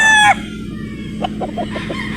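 A white straight-comb rooster crows once, loud and close, its call cutting off sharply, followed by softer clucking and faint background noise.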